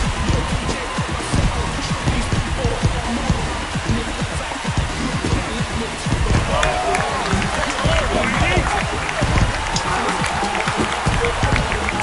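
Baseball stadium crowd at a Washington at Cincinnati game cheering after back-to-back home runs, a dense, loud roar of applause and shouting that swells a little partway through, with a commentator talking over it.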